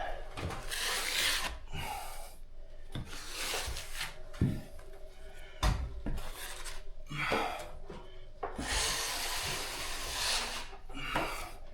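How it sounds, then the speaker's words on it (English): Drywall blade skimming joint compound over taped seams on a ceiling: repeated broad scraping, rasping strokes, close and fairly steady, with short pauses and small knocks between passes. "And then I'll get my bigger blade. And I'll just put this skim over that."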